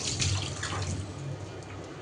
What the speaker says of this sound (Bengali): তারপরে তো মাছটা আমি ধুয়ে নিলাম